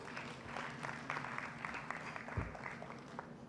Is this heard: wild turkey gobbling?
no